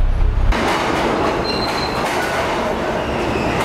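A New York City subway train rumbling loudly on the rails, with a steady roar of wheels and a brief high metallic squeal partway through, no voices.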